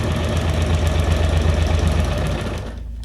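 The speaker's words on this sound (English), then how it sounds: "even sewing around these is pretty quick." A sewing machine stitching around paper junk journal ephemera, its motor whirring in a loud, steady rapid chatter that runs continuously before easing off near the end.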